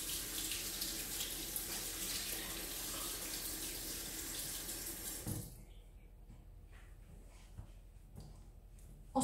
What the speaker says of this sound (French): je me passe les mains à l'eau quand même